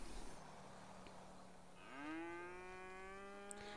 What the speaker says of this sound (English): Oh my god, a cow!